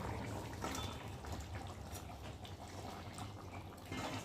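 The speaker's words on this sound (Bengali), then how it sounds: "এখন ভেজে রাখা এই যে মাছগুলোকে দিয়ে একটু ভালো করে ফুটিয়ে নেব" Bhola fish curry with fried fish pieces and potatoes bubbles in a pot, a steady soft simmering hiss with faint pops throughout, close and quiet.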